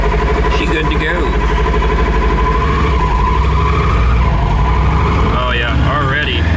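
A tuned micro van with a tuned ECU pulls away under throttle, its engine giving a steady, loud, close drone with a rising whine near the end while people talk over it.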